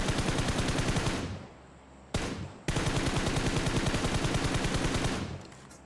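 Heavy automatic gunfire from the PUBG Mobile battle royale game, loud sustained bursts of rapid shots with a short pause and a brief break before another long burst, then tapering off.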